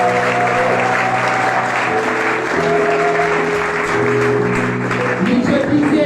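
A church congregation applauds and cheers loudly for the Lord, dense clapping filling the space with raised voices and tonal shouts mixed in throughout.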